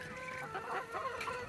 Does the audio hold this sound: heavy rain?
no